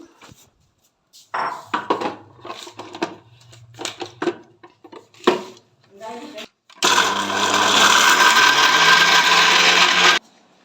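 A mixer grinder jar grinds biscuits into powder, a loud steady whirring roar that runs for about three seconds near the end, after a stretch of faint rustling and handling sounds.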